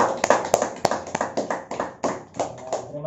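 Classroom applause for a student group that has just presented its model of Earth's rotation and revolution, a few sharp claps rising into a short burst of clapping nearby under light voices.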